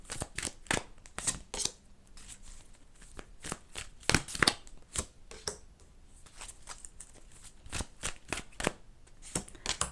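Tarot cards being shuffled up close in a quiet room, a steady run of crisp riffling and slapping bursts with brief pauses between them.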